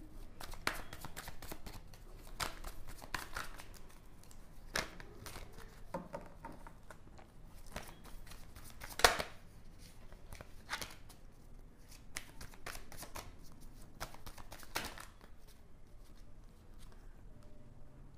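Tarot cards are shuffled in a steady run of soft riffling slaps and papery clicks, close and fairly quiet, with one sharper snap midway and no talking.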